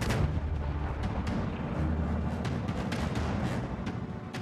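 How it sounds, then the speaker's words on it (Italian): Repeated heavy booms of tank guns firing in a World War II battle, deep and rumbling, overlapping in a continuous barrage at a distance. "Sopra gli spari dei carri, il cielo si riempie del rombo di migliaia di motori."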